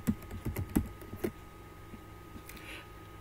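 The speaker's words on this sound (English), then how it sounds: "if I type out my mail address" Several quick keystrokes on a computer keyboard as an email address is typed, clustered in the first second and a half, then quiet room tone.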